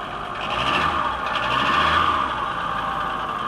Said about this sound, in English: That weird intake noise is normal on these things.